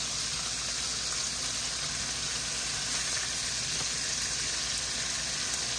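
Cut-open peppers sizzle in a hot pan, a steady, even hiss of frying that runs unbroken and fairly quiet throughout, with no talking.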